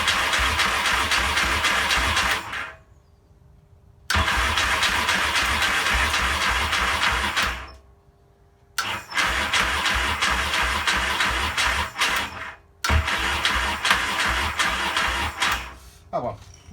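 A Yamaha XS650 motorcycle engine cranks hard on half choke, struggling to catch, in several loud sustained bursts separated by brief pauses; voices can be heard faintly around it.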